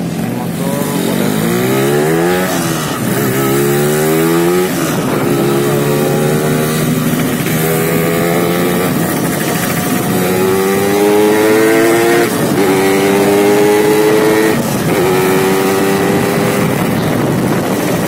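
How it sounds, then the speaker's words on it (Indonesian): Motorcycle engine with an oversized main jet, revved hard at high RPM in repeated rising sweeps, loud and close, with a rough, droning tone throughout. "Kita ada di RPM atas, di RPM tinggi ya"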